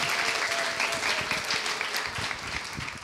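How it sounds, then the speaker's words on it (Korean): A concert hall audience at an outdoor evening orchestra concert breaks into dense, continuous applause, many hands clapping close and loud before tapering slightly toward the end. "우리 단장님께 박수 부탁드리겠습니다"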